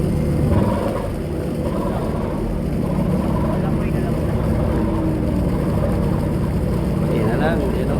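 Two ships maneuver alongside each other out at sea, a steady loud engine drone and rushing wind and water that hold for the whole stretch, with faint voices mixed in.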